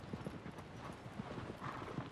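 Horse hooves clip-clopping in the video game Shadow of the Colossus as a horse is ridden across a vast landscape, a quiet, uneven rhythm of soft thuds heard faintly against a low background hum.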